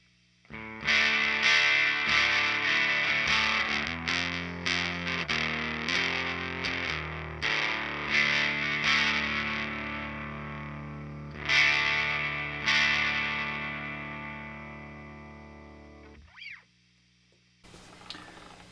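An electric guitar played through a Matsumin Valvecaster overdrive pedal gives loud, distorted chords and sustained notes in a strummed, rhythmic run. The notes ring out and decay, and a brief pick scrape follows near the end, with no talking.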